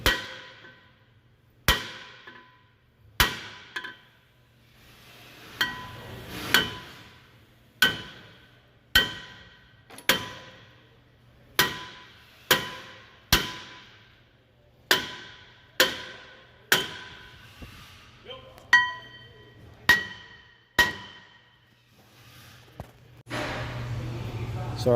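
A hammer strikes the rear brake rotor of a 2014 Ford F150 in about eighteen sharp metallic blows spaced a second or so apart, each ringing briefly, with a low hum underneath.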